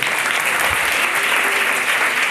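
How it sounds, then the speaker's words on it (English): An audience claps steadily for the full stretch, a dense, even wash of applause heard close up with no voice over it. "It's okay, you can clap on my prototype."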